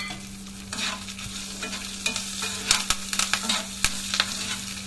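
Dried Byadgi chillies fry in hot oil with curry leaves, a steady sizzle under repeated scraping and stirring strokes of a spoon in the pan, close and fairly loud.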